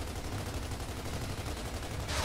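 Gears of War 2 video game gunfire, a rapid continuous stream of automatic shots, dense and steady, at moderate distance with no voices over it.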